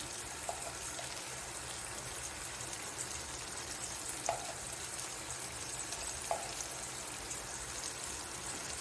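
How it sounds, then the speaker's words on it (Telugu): Ginger garlic paste frying in a pan while a Telugu-style curry is cooked, a steady soft sizzle and hiss with a few faint clinks, quiet and continuous. "అల్లం వెల్లుల్లి పేస్ట్ కూడా వేస్తున్నామండి"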